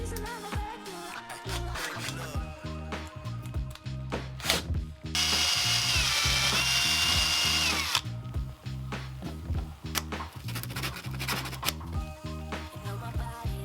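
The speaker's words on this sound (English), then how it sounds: "after I've drilled the small hole, I can start drilling the big one" A power drill whirring in short bursts, then a sustained high grinding stretch in the middle as it bores a larger hole through a plastic BMX peg, close up.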